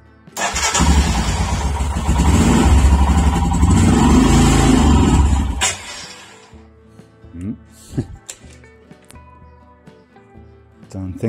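A fuel-injected Royal Enfield Himalayan motorcycle engine cranks and fires into a loud, rough roar for several seconds, then drops to a quieter idle as someone talks nearby.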